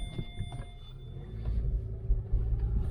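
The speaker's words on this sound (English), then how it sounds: "if I rev it hard here, if it's got a misfire, it's going to throw a code straight away" A car engine is revved hard while being checked for a misfire, a deep continuous rumble that swells and grows louder in the second half, close by and with no speech over it.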